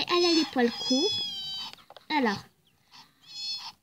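A European-type short-haired female cat in the video game Nintendogs + Cats gives a couple of clear, drawn-out meows, near and fairly loud, with a person speaking around and between them.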